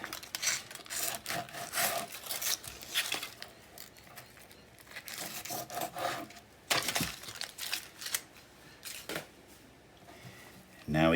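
A serrated knife cuts plastic wrapping off a sausage in quiet, intermittent scratchy rasping strokes, close up, with short pauses between bursts.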